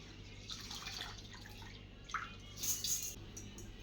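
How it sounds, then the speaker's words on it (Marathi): Water trickles and drips as washed rice is drained in a sieve, a soft steady patter with a brief louder splash near the end, close by with no talk. "आता आपण हे तांदूळ चाळणीमध्ये घालून त्याच्यातलं पाणी काढून घेत आहोत."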